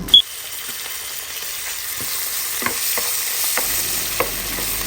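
Chopped garlic and chicken frying in oil in a pan for fried rice, a close, steady sizzle with occasional spatula scrapes and a sharp clink at the start.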